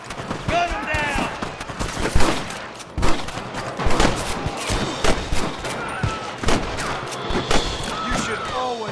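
Rapid, dense gunfire in a Red Dead Redemption shootout, loud overlapping shots and bursts throughout, with shouting voices mixed in.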